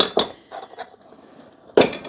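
A small teaspoon clinks against a salt container in a kitchen during pantry baking prep: a few sharp metallic taps early, lighter scraping in between, and a loud clink at the end.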